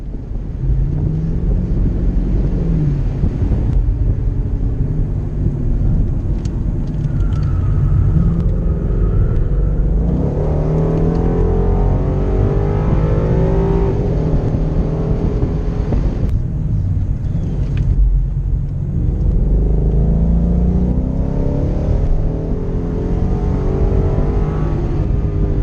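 A 2016 Ford Mustang GT convertible driving through corners, with a steady loud engine rumble that swells and eases as it accelerates and slows, heard close with wind noise.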